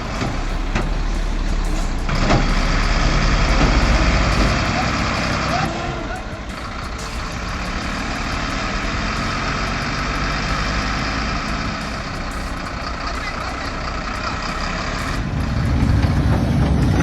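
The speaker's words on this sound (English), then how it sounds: "This dump truck almost dumped itself off the cliff." Heavy dump truck engine rumbling steadily near a cliff edge during a heavy equipment mishap, a loud low drone that dips midway and swells again near the end, with people talking over it.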